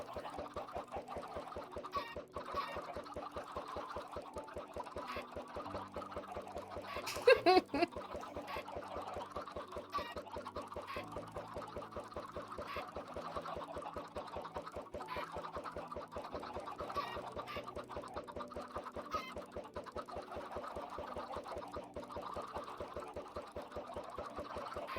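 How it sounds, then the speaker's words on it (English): Minecraft chickens cluck over and over through a steady game soundtrack, with one louder burst of clucking from many birds crowding together partway through. "God, how many chickens came out of that egg?"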